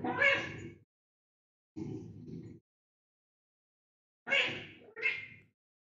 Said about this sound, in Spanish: Aquí tienes un sonido de gato.